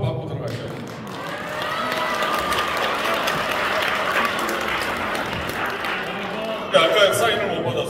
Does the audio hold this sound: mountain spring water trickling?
no